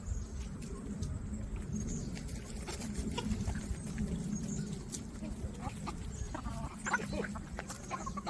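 Young chicks and adult hens of a backyard flock cluck and peep softly at moderate distance over a constant low outdoor hum, with scattered short calls throughout.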